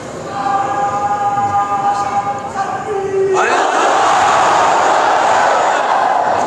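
A large crowd at an annual religious gathering of a seminary chants slogans in unison, a loud, sustained roar of many voices that swells and holds steady through the end.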